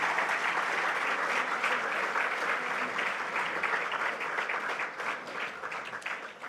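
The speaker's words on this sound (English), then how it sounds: "Another round of applause, please." Sustained audience applause fills a sports awards ceremony hall, steady dense clapping from a large crowd holding level for several seconds before easing slightly at the end.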